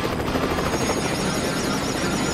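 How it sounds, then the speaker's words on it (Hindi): A cartoon helicopter from the Car City World app game whirs continuously and loudly, its rotor chop steady and close throughout with no talk. "super helicopter"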